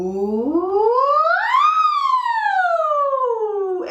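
Voice imitating a siren during a singing warm-up, one smooth sustained sweep that rises steadily from low to high, peaks, then glides slowly back down, loud and close with no other sound.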